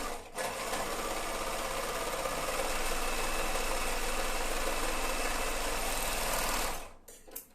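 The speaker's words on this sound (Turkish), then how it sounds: "Şimdi mesela ben bu dikişi dikiyorum." An overlock sewing machine stitching fabric runs in a fast, steady whirring buzz for about six seconds, loud and close, then stops abruptly, with a few faint clicks after.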